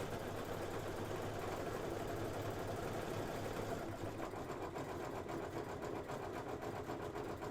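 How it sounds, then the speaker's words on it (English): Faint and steady, an embroidery machine drones on without a break while satin stitching a Kimberbell heart-and-home door decoration. "And then we'll satin stitch on top of it."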